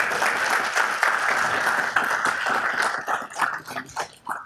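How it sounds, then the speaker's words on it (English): A city council audience in Downey claps for a group of young students, with dense, steady applause that thins into scattered, fading claps near the end. "can we please give these young people a round of applause?"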